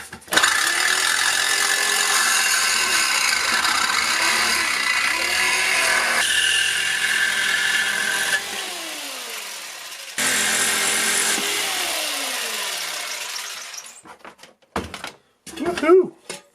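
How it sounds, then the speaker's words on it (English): A circular saw whines and cuts into a metal mini beer keg, loud and close, in several long passes with pitch drops as the blade slows, then spins down, followed by clanks and handling noises. "We're going to use the skill saw to get this out."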